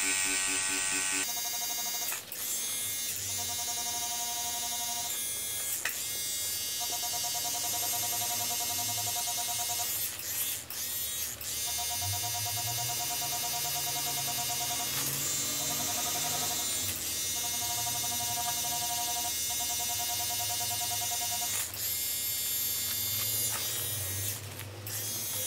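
A tattoo machine runs as a steady electric buzz with a mag needle grouping, shading a realistic skull, continuous and close throughout the whole stretch, with no voice heard.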